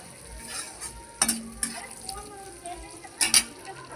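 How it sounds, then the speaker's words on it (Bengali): Almonds and dates frying in ghee in a kadai give a soft, steady sizzle, broken by a few sharp metallic clinks and scrapes of a spoon against the pan. "ড্রাই ফ্রুটগুলো সুন্দর করে ভেজে নেবো।"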